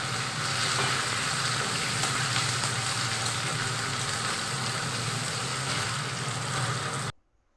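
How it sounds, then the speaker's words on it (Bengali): Onions fry in a hot kadai with a dense, even sizzle that holds steady and close for several seconds, then stops abruptly. "আমি কড়াই গরম হয়ে গেছে, পেঁয়াজটাকে লাল লাল করে ভেজে নিব।"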